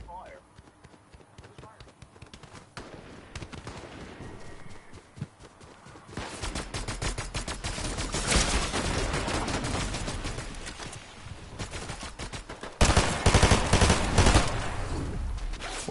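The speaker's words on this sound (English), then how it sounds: "More firing in the distance." Gunfire from a Fortnite match, with bursts of shots ringing out in the distance and growing louder toward the end, while players talk over the fighting.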